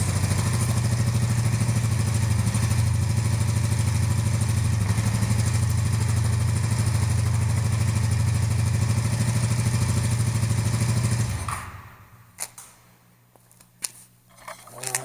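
A cafe racer motorcycle undergoing a clutch rebuild runs steadily in first gear, its loud, close engine drone holding for about eleven seconds before cutting off, followed by a few metallic clicks and knocks.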